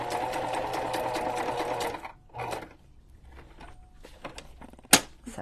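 A sewing machine stitching a pocket for a junk journal runs in a fast, steady whir for about two seconds, then follows with short bursts and clicks and one sharp knock, close and alone.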